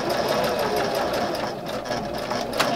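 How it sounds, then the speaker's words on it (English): Sewing machine back-stitching over seams on a fabric basket, a close, steady rapid mechanical whir with a fast rhythmic needle chatter that runs continuously. "I'm going to go back over these stitches just a little bit to lock them in place."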